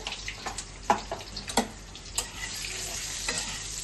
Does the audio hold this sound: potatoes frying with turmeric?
yes